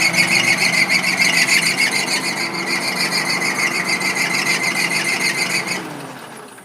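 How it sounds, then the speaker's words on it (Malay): A car engine runs with a bright, squealing whine over a steady mechanical drone, then cuts off near the end and fades out quickly, close up with no talking. "Okey, sekarang kita mati enjin"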